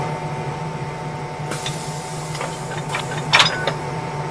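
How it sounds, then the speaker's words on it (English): Tight lock coupler uncoupling mechanism on a DC electric multiple unit, operated from the cab, gives a scatter of sharp mechanical clicks and clunks over a steady electrical hum, with one louder rattling burst near the end. "Can you press the uncoupling button"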